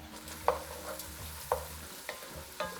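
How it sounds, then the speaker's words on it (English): Onion and celery sizzling in bacon fat in a pot for Boston clam chowder, a steady close fry broken by a few sharp spoon clinks as the vegetables are stirred, with no one talking. "I want to sweat these veggies"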